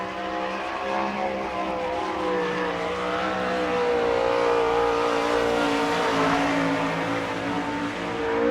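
A winged sprint car on a dirt oval at the All Star Circuit of Champions Bauman Memorial, Sarver PA, roars through a qualifying lap, engine note loud and sustained with pitch rising and falling through the turns.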